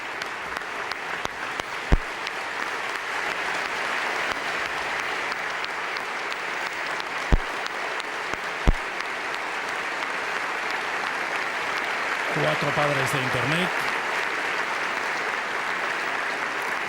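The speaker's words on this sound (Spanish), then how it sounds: "aplaudidos no solo por los presentes en el Teatro Campoamor" Long, steady ovation from an audience at an award ceremony in the Teatro Campoamor, a dense wash of clapping with a few sharp louder claps, and a voice speaking briefly over it near the end.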